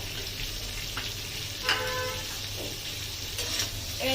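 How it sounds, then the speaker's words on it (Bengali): Chicken pieces fry in a pan for chicken soup, a steady hiss of sizzling oil with a few sharper metallic scrapes as the pieces are stirred, close and without any voices. "এটার সঙ্গে চিকেনটাকে একটু ভালো করে নেড়ে চেড়ে নিতে হবে"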